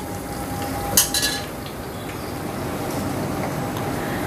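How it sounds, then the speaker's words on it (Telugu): Chicken pieces frying in peanut oil over moderate heat, a steady dense sizzle and hiss with a brief clatter of a utensil near the start, no talking. "ఈ మొత్తం ముక్కలు బాగా గోల్డెన్ బ్రౌన్ వచ్చే వరకు వేపుకోవాలన్నమాట"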